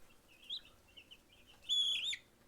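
Young meat chickens raised for the table give repeated high chirps: scattered short peeps at first, then a louder, denser run of calls near the end.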